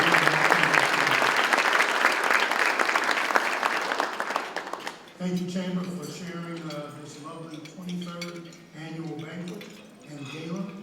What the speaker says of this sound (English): please join me in giving a round of applause to our